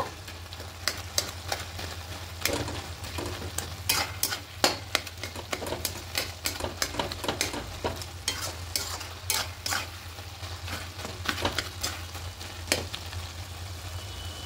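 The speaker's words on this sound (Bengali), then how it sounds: "ঢাকা না দেওয়া অবস্থাতে একটু আলুগুলোকে এভাবে কেটে নেব" Potatoes chopped with a spatula in a simmering pan of vegetarian cabbage curry, a steady run of sharp scraping and tapping strokes over a low, constant cooking hiss, close and alone with no talk.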